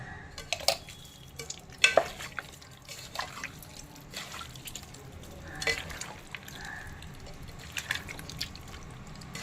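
Mutton curry being stirred after salt is added, with soft wet squelching and scraping in a pot, irregular clicks of the spoon against the vessel and faint drips, close and moderately quiet throughout.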